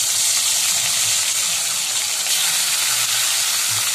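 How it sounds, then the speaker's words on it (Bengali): Fish pieces fry in a pan over a clay stove, producing a dense, steady, close hiss of bubbling oil that stays even and loud for the whole stretch. "মাছগুলো প্রথমে ভেজে নিচ্ছি"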